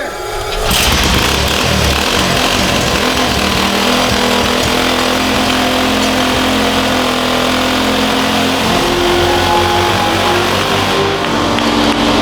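A small Walmart motorcycle engine fitted with a cheap Wish.com turbo runs loud and steady after a pull start, a droning rasp that holds level with slight pitch wavers and no talking.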